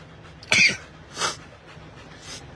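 A person sneezes twice in quick succession, close and fairly loud, followed by a fainter third burst after a short pause, with a quiet room tone in between.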